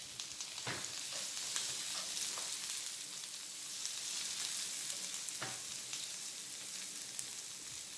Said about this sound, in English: Now I am going to add the onion so that it starts cooking. As you can see, the oil heated very fast.